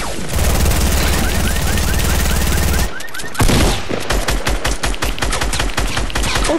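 Rapid gunfire in the video game Fortnite, with shotguns in play: a dense stretch of continuous shooting, a brief lull, then a string of sharp, close repeated shots, loud throughout.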